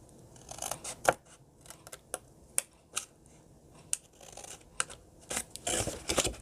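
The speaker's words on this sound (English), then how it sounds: "We're going to cut this whole panel right here" Scissors snip through a paper gift box panel in quiet, close, irregular cuts, with sharp clicks and crisp paper rustle spread across several seconds and no voices.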